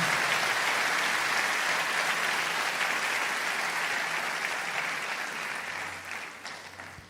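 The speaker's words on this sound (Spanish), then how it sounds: "Vamos a darle un aplauso a Jesús en esta mañana" A church congregation gives a morning round of applause for Jesus, a broad, continuous roar of many hands clapping that stays steady and then gradually fades away.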